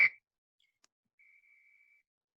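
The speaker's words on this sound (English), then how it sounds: "So we hear a whistle." A single whistle blown faintly, a short sharp onset followed by a steadier thin tone lasting under a second, alone in otherwise silent surroundings.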